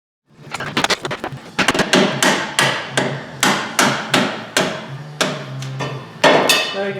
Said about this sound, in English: go from the inside with a screwdriver or some kind of chisel and a hammer